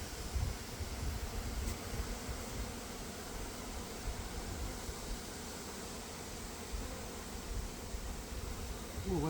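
A steady, dense hum of honeybees swarming around an opened hive in autumn, continuous and fairly soft, with no talking.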